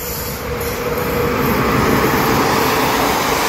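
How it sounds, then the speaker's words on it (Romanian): A train in a video game rolls past with a loud, steady rumble of wheels and carriages that builds slightly and holds throughout, with no voices. "și auziți și ultimul tren din acest videoclip"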